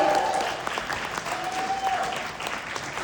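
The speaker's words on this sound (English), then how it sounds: "Can you guys give her a round of applause for being here today?" An audience at a sponsorship gala claps for the DJ, a steady stretch of moderately loud applause with a faint tonal sound briefly audible underneath.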